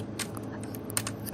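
Key presses on a computer keyboard, the left arrow key tapped while placing Jawi letters in embroidery design software; several light, sharp clicks at irregular intervals over a low steady room hum.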